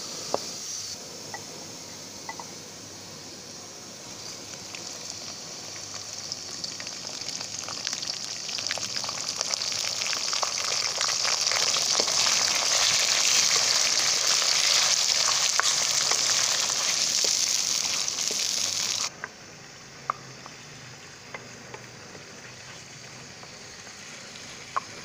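Chicken sizzles loudly in a pan with browned onions, a steady crackling hiss that swells for a while and then drops abruptly to a softer simmer with occasional pops.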